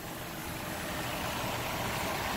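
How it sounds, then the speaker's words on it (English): A van engine idles smoothly after an old-fashioned start, a steady, even hum with broad noisy texture and no knocks or ticks, close by and alone without any talk. "to how nicely that engine is purring."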